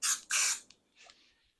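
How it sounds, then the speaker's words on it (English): Cooking spray is spritzed onto hands before shaping cookie dough, two quick close hisses in a row followed by a fainter short burst, with no talking. "I'm going to take some cooking spray, and I'm just going to spray my hands"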